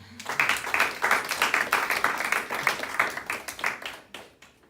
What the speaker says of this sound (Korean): 이번에 정말 가장 수고하시는 박수 한번 해주시죠.